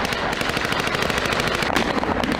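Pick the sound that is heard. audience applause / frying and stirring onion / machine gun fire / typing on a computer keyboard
machine gun fire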